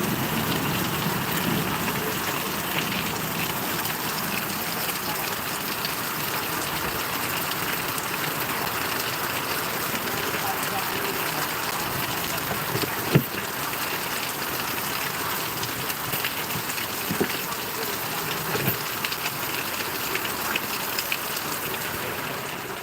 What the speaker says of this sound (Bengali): এই মুহূর্তে খুব জোরে বৃষ্টি হচ্ছে